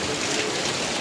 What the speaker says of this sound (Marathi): इतका डेंजर पाऊस चालू आहे इथं.